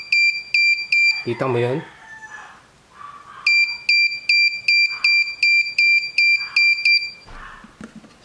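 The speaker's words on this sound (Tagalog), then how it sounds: "napipick up nung mic yung sound ng buzzer." Repeated short electronic beeps from a buzzer picked up through a DIY electret microphone preamplifier, in rapid bursts, piercing and shrill, with a brief spoken question between the two runs of beeping.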